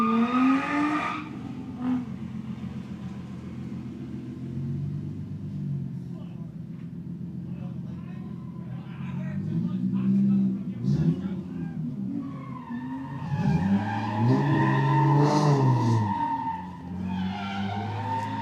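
A drift car, a banana-liveried Nissan G35, spins out on asphalt at a drag strip's shutdown area, with loud squealing, skidding tires and engine revs rising and falling under excited commentary.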